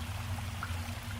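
Faint, brief trickle of water being poured, a soft steady liquid stream over a low background hum.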